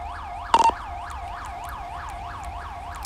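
An ambulance siren in the GTA 5 video game wails in a rapid, repeating up-and-down yelp, steady and prominent, broken by a brief electronic blip near the start.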